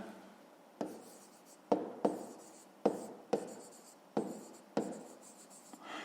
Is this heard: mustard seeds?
no